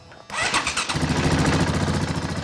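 A motorcycle engine cranks briefly, catches and settles into a steady, close, throaty idle rumble.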